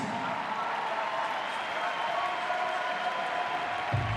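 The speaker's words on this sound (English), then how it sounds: "1 more big round of applause for them" Crowd applause for athletes finishing the final event of a competition weekend, a steady broadband wash of clapping and cheering that holds at an even level throughout.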